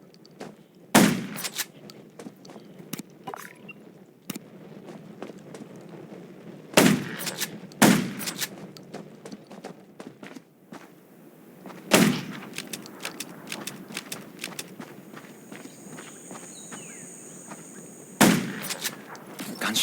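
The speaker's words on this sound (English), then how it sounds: "Gunshots will attract more zombies." Scattered gunshots in the zombie video game Undawn, several sharp loud bangs spaced seconds apart over a quiet background with faint thuds.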